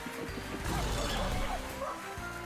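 Cartoonish dogs bark and yip in the Dog House Muttley Crew online slot game, mixed into a dense bed of game sound with some voice in the background.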